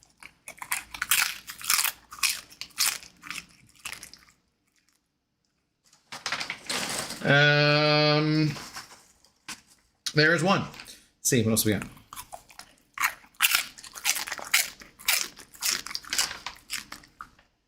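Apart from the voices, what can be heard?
dog crunching a treat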